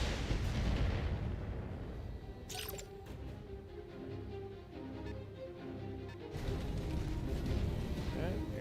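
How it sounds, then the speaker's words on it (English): A PPC barrage fires in the video game BattleTech (2018): heavy, rumbling explosive blasts that are loud at the start, ease into a quieter, crackling stretch in the middle, then surge back strongly at the end. "here comes the PPC barrage"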